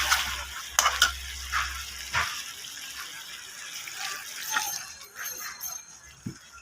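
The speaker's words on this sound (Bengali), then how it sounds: "আমি ভালো করে সবজিটাকে কষিয়ে নেব এইভাবে করে" Vegetables being sautéed in a pan with a little water, with sizzling bursts and stirring scrapes up close at first, then fading to quieter intermittent spatter and clatter.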